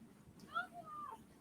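A cat gives a faint, short meow with a rising then falling tone, heard alone against quiet room noise.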